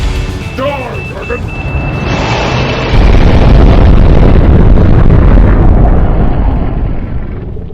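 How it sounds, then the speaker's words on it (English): A bomb explodes in the intro of a Battle of Stamford Bridge war game, a heavy sustained blast rumbling for several seconds and swelling louder partway through, with a voice speaking over the start. "I'm deploying the bomb."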